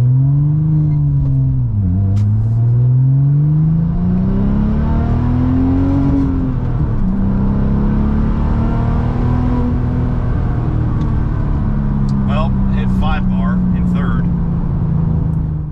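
A Porsche 996 Turbo engine revs hard through a second gear pull, a loud, close rising drone that dips at a shift and climbs again, then holds a steady high pitch, with brief faint voice-like sounds near the end.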